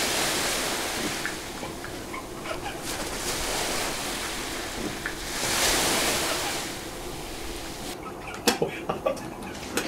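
Sea waves roll and wash along a shore in a broad, steady rush that swells and fades, with some wind over the microphone and a few sharp knocks near the end, no clear talk.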